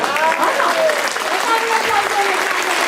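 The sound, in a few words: audience applause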